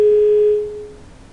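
A single steady telephone line tone sounds right after a phone call drops. It is loud for a moment, then fades out within about a second.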